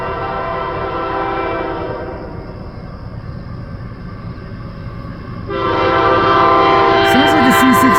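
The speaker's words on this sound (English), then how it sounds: "Sounds like a C6M rebuild." CN freight train M357 led by rebuilt C6M locomotive 3383 passing at Ladysmith, Wisconsin, its diesel rumble swelling loud and close, with a horn sounding near the end.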